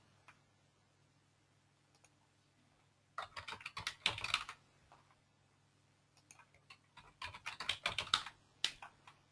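Bursts of typing on a computer keyboard while a password is changed: two quiet flurries of rapid key clicks separated by a pause, close and alone.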